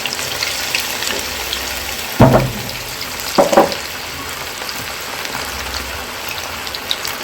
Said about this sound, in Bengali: এবার আমি একে একে চিকেনের পিসগুলোকে তেলের মধ্যে দিয়ে দেব